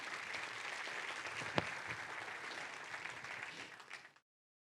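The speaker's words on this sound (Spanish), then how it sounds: "Denle un fuerte aplauso a Dios." Church congregation applauding during an Argentine pastor's sermon, a steady wash of many hands clapping at a moderate distance, one sharper clap standing out, ending abruptly.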